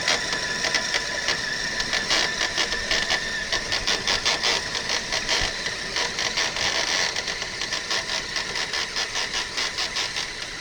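A Traxxas slipper clutch slips on an RC truck during a shakedown run, giving a continuous close, buzzing mechanical ratchet with rapid pulsing chatter and whining drivetrain gears for about ten seconds.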